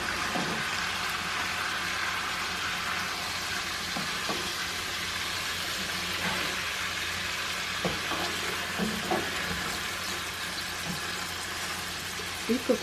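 Salmon sizzles steadily in a frying pan, a constant hiss at moderate volume with a few soft clicks and taps of utensils.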